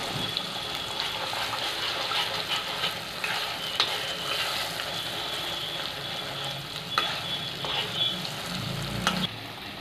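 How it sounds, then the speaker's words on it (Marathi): Spice masala frying in oil for a mixed vegetable curry, a steady close sizzle with faint stirring that continues for the whole stretch. "छान तळायचा आहे इथे आपल्याला आपला मसाला"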